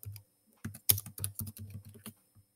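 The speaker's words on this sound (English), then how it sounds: "let's just type in Rubik's Cube." A short search typed on a computer keyboard, a close, quick burst of a dozen or so crisp clicking keystrokes after a brief pause, with no voice.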